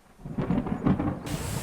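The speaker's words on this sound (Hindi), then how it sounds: "मौसम खराब है, बिजली भी बहुत कड़क रहा है" A low rumble of thunder rolls during a storm, swelling briefly and fading over a second or so.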